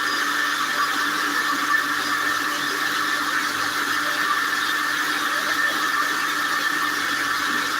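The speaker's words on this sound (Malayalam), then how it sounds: "അപ്പോൾ നമുക്ക് അല്പം കൂടെ വെള്ളം ചേർത്ത് കൊടുത്ത് അരച്ചെടുക്കാം" A kitchen mixer grinder blends fish curry paste with added water, a loud steady high-pitched whirring motor hum that runs unbroken and close throughout, with no talking over it.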